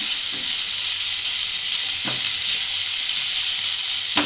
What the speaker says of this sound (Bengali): এভাবে পেঁয়াজের মধ্যে চিকেনটাকে ভালো করে কষিয়ে নেব।